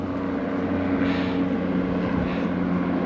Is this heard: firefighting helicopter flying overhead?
yes